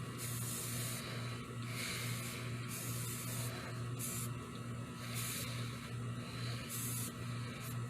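Rust-Oleum flat black primer sprayed from an aerosol can onto a 3D-printed Aliens head: a series of close, steady hissing bursts, each lasting about a second with short gaps between them, over a low constant hum.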